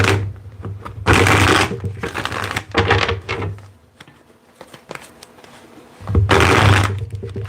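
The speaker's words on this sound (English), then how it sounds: "let's get 4 more shuffles here" Rapid riffling bursts of tarot cards being shuffled, loud and close, in several rounds separated by quieter handling sounds.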